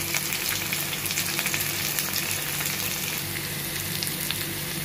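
Onions, curry leaves and green chillies sauté in hot oil for a curd gravy, giving a steady, close sizzle and crackle that runs evenly throughout, with no talking.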